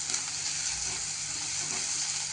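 Salt stirred into a sizzling Marathi-style phodni tempering in a pan, a steady close hiss of frying with faint stirring underneath and no voices.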